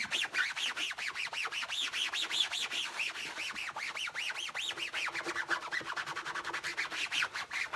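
Steady, rhythmic rubbing with a cloth across an Electrolux 304 cylinder vacuum cleaner, repeated back-and-forth strokes at close range with a slight squeaky rasp, no voices.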